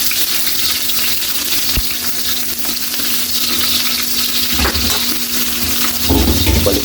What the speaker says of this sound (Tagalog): Yan Kylie, okay na yung bawang natin. Lagyan na natin yung sibuyas.